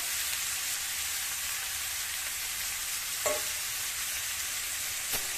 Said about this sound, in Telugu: వేసుకున్న క్యాలిఫ్లవర్ని కూడా వేస్తాను ఇలా కలుపుకోవాలి